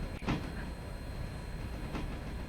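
A log train rolls along in the Railroader game, a steady low rumble of rail cars with a couple of sharp clacks, continuous and moderately loud with no speech.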